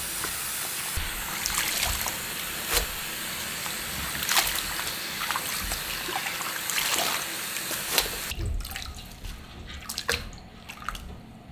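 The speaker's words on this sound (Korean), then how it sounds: "물을 많이 받고 손을 이렇게 흔들면서 건지면 돼요" Young radish greens are swished by hand through a basin of water, giving a steady close sloshing and trickling with scattered drips and splashes.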